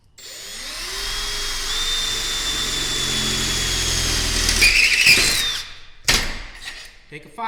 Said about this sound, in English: Drill some holes. Got a drill bit, somewhere around 1/4 inch.